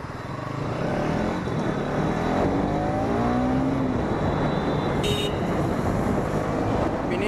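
A Bajaj Pulsar NS200 BS6 motorcycle weighing 154 kg is ridden at a moderate pace, giving a steady engine drone mixed with wind and road noise throughout, with some brief speech.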